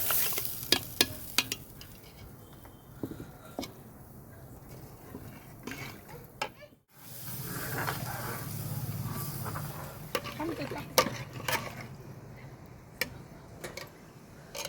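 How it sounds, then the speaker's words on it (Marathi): Sizzling meat cooked on a wood-fired stove as masala is stirred in, with repeated stirring and light clinks of a spoon against the pot, a brief pause midway, then louder sizzling resumes. "आपण आता हा मसाला या मटणामध्ये घालून घेणार आहोत"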